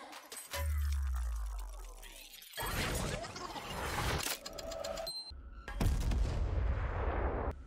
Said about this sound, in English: It is the noise space-time, or whatever, Ekko's watch itself probably makes when Ekko's time watches rewind